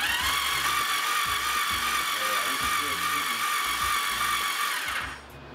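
The starter cranks a Yamaha XV750 Virago engine with its spark plugs removed. It makes a steady, close whirring drone with a rapid low pulsing underneath, running for about five seconds before it stops.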